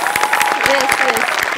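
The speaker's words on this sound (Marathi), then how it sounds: "त्याच्याकरता एकदा आपण टाळ्या वाजवूया" A studio audience at a comedy show claps for Shailu in quick, distinct, close-sounding claps, with voices and a faint tonal sound mixed in beneath the applause.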